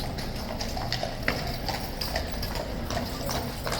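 King's Guard cavalry horses clip-clop at Horse Guards, their hooves striking hard ground in a steady, fairly close rhythm over a constant crowd and street murmur.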